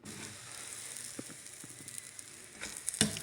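A whole wheat paratha stuffed with spiced grated radish cooks on a griddle over moderate heat, a soft steady sizzle with scattered small pops and a louder crackling burst near the end, no talk.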